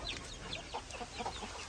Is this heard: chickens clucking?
yes